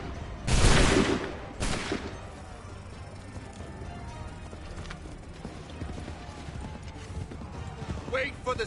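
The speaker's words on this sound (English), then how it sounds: "Open fire." Musket volleys in the 18th-century battle game Assassin's Creed 3: two loud, crackling bursts of massed gunfire close together near the start, then a quieter stretch of trotting hooves and clanking gear with faint voices.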